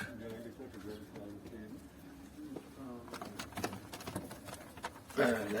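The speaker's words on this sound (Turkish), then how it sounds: "Şöyle göstereyim size arkadaşlar kuşları yakından. Perçemliler, perçem takka perçemliler, kirli benekliler." Crested pigeons and speckled pigeons coo softly in a loft, their low murmuring calls mixed with wing flutters and scuffling while someone talks over them.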